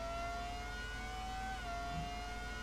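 Formula One car engine in the Dreamcast racing game Monaco Grand Prix, a steady high whine at constant pitch with a brief dip midway, droning continuously under a faint hiss.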